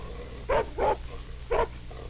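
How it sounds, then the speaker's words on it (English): A dog barks and growls at a small turtle, giving three loud, close, gruff barks in an uneven rhythm with short pauses between them. "the dog growled"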